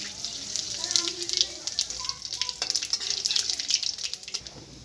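Whole spices (bay leaves, a dried chili, cinnamon, cardamom, cloves and cumin seeds) frying in hot oil for a Bengali rui fish masala curry, giving a steady crackling sizzle with sharp pops, loud and close.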